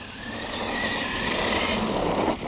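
A Losi LMT radio-controlled monster truck runs at half throttle, its electric motor giving a steady, continuous whine with tire and gravel noise that holds level for the whole stretch and then eases slightly at the end.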